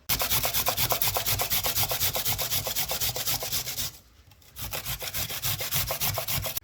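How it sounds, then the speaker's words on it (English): Arrowroot rubbed against a grater in quick, even back-and-forth strokes, a close, loud rasping scrape with a brief pause midway before the steady grating resumes. "I'm gonna use my grater and grate my arrowroot"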